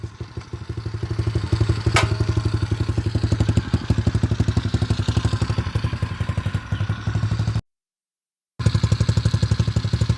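A cheap Chinese 110cc dirt bike engine idles while warming up, putting out a close, loud, rapid and steady single-cylinder chug with a rattly clatter. One brief gap breaks the run, and no one speaks.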